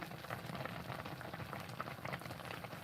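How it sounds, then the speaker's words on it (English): Amanita muscaria mushrooms boil in a pot of water, a quiet, continuous bubbling and popping simmer that stays close and even, with no voices. "there's some boiled Amanita muscaria. Just steaming away."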